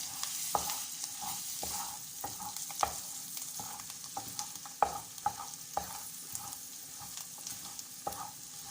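Egg mixture with coriander being stirred in a bowl, a utensil tapping and scraping in a quick, fairly regular rhythm, close up and moderately loud with no talking.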